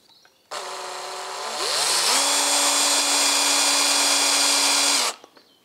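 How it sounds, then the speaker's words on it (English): A power drill whirs for several seconds while drilling a hole in an old engine block, its pitch rising as it speeds up and then holding a steady, loud whine before cutting off. "And then we'll drill a hole."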